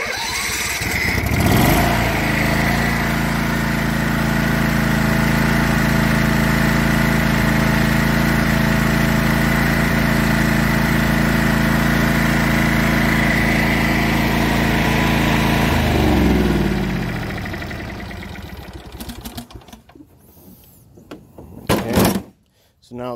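A warm John Deere SST16 lawn tractor engine starts on the key, then idles with a loud, steady drone for about fifteen seconds before shutting off and winding down, followed by a few clunks.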